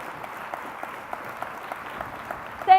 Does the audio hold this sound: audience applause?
yes